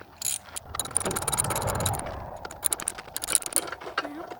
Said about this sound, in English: we're going to pull these bolts one at a time and add some Loctite